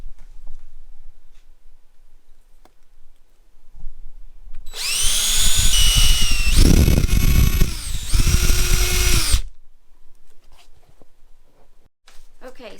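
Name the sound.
drilling through a motorcycle tank bag mount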